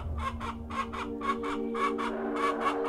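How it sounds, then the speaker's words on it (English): A live chicken clucks in a backyard scene of an animated mystery story, about a dozen short, evenly spaced clucks that sit close and clear over a steady low hum, with no talking. "Hearing a strange noise from the backyard, Alan walked out to find Amelia with a live chicken."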